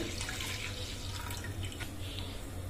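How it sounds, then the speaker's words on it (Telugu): Water pours steadily into a pan, a continuous splashing rush at moderate level with no talking. "ఇంకా హాఫ్ గ్లాస్ వాటర్ వేస్తున్నాను."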